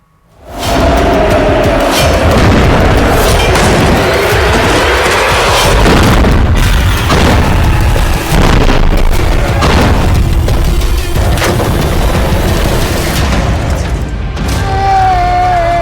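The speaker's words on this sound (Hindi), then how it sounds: "दो 2000 किलो का बम धमाका, भाप बना हमास।" A 2000 kg bomb detonates in an Israeli strike on Gaza. A massive, close boom erupts and rolls into a long, heavy rumble with crackling debris that lasts about fifteen seconds.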